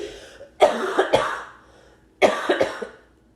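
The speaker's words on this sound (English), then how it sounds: "You want to stop coughing" Two separate fits of coughing, each a quick cluster of three or four harsh, close coughs, with a short quiet gap between them.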